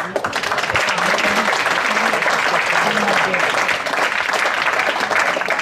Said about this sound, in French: Merci d'applaudir l'équipe de Ninon Pornichet.